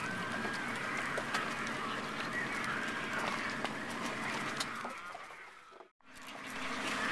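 Dense clamor of seabirds at a nesting island colony after an oil spill, with overlapping calls and squawks filling the air nearly continuously before the sound briefly cuts out and returns.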